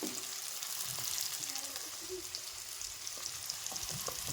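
Onions and drumsticks sauté in a pan, giving a steady close sizzle with faint stirring scrapes and no talk.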